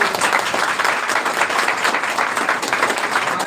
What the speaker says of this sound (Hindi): उसके लिए जोरदार ताली बजाएं आप लोग